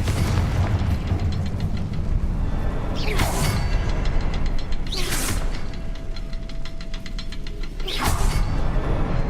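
Three booming Confringo blasts from Hogwarts Legacy burst out a couple of seconds apart, each a loud whooshing explosion with a crackling tail. Game music and mechanical clatter run underneath, and there is no talk.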